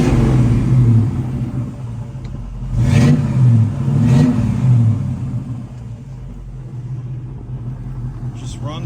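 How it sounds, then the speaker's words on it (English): A 1969 Chevrolet Camaro with a four-speed and dual exhaust revs up, its deep rumbling engine swelling through a few throttle blips before settling back to a steady idle, loud and close. "Just runs well, sounds good. Dual exhaust as well."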